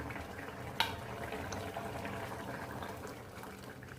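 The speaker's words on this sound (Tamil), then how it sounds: "இப்போ பார்த்திங்கன்னா நல்லா கொதிச்சிருச்சு" Light May rain in Zhytomyr, Ukraine, pattering steadily on nearby surfaces beside a flowerbed, with soft individual drops tapping irregularly over a faint low hum.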